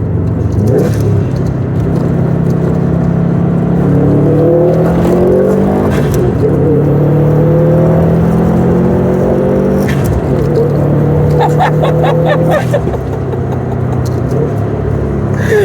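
A Throtl-tuned Subaru STI accelerates hard in Sport Sharp mode, its loud engine rising steadily through the revs and dropping sharply at each gear change, heard from inside the car.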